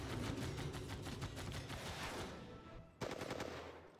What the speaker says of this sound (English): now let's take this bomber and attack you